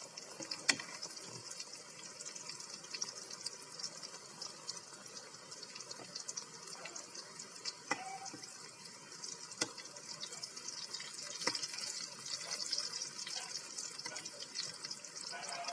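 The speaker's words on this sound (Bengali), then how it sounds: "সুন্দর করে ভেজে নেব।" Mini samosas deep-frying in hot oil give a steady, fine hiss throughout, scattered with small pops and crackles, with no voices.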